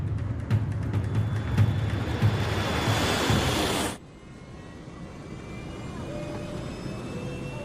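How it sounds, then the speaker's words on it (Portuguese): Airliner engines roaring as it accelerates down the runway for takeoff, a loud broadband rush that cuts off abruptly midway, leaving a quieter cockpit hum. "É uma decolagem de rotina"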